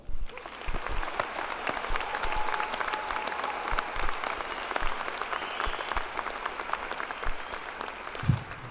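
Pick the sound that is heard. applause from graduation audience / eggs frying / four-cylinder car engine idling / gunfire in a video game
applause from graduation audience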